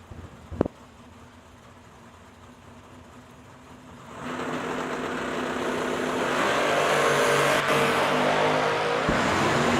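A gorgeous hot rod drag racing car at the start line idles low, then its engine swells into a loud, sustained roar that keeps building, with a sharp bang early on.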